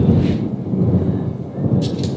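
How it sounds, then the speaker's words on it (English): Thunderstorm rolling in, with a loud low rumble of thunder that rolls on steadily under a hiss of rain and a few brighter rustles, no voices. "There's a thunderstorm rolling in apparently."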